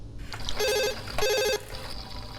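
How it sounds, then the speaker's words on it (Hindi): An old-style telephone bell rings in two loud, close bursts, each about a second long, separated by a brief pause, with no voices over it. "देखो जरा किसका फोन है।"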